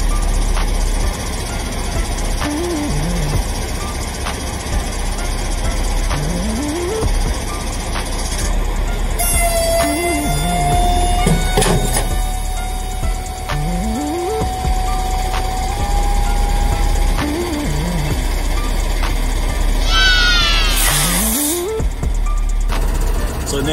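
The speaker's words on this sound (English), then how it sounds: "Now we can put the truck in reverse to slide the fifth wheel forward" A semi truck engine idles and pulls in reverse to slide the fifth wheel forward, a steady loud diesel rumble with repeated rising tonal whines and clanks, no talking.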